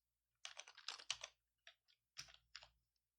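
Typing on a computer keyboard while searching for a node in the Godot game engine: a few short bursts of quick, close, clicking keystrokes separated by brief pauses, with no voice.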